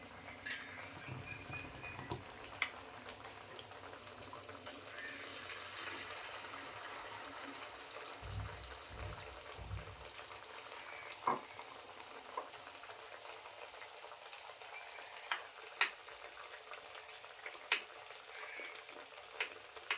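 Malpua batter fries in oil in a pan at medium heat, a soft continuous sizzle with occasional faint clicks and a few low knocks, quiet and close, with no voices.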